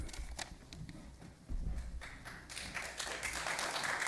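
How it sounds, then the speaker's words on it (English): A handful of people clap scattered and faint in a county board meeting room, brief uneven claps building slightly toward the end. "Please hold your applause."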